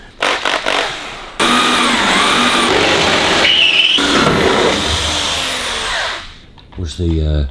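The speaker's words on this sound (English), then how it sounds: "Let's drill that one out a bit more there." A power drill whines loudly and steadily for several seconds, pitch shifting slightly as it bites into a metal bolt on a 1941 Kubelwagen, with short bursts before and a brief pause midway.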